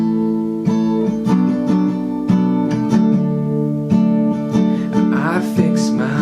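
An acoustic guitar strums the bridge chord progression of a worship song, with steady, evenly spaced chord changes that ring out loud and clear.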